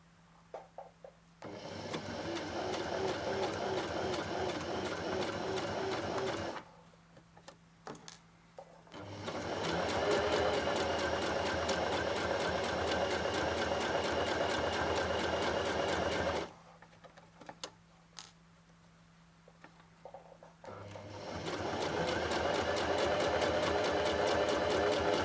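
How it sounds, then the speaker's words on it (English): A sewing machine stitches an invisible zipper using a zipper foot, running in three loud, steady bursts of rapid whirring separated by short quiet pauses. "then the needle will stitch nice and close to those teeth"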